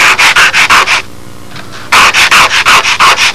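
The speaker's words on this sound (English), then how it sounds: "Actually, I could just lay sandpaper over this." Sandpaper rubbing on a fragile, thin model aircraft canopy part during fuselage construction of a Windy B-25 model, with a close, steady run of short rhythmic strokes, a brief quiet pause, then another quick stroking burst.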